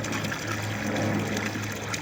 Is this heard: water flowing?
yes